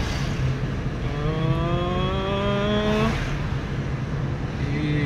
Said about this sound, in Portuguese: Passamos a terceira, aumentamos a velocidade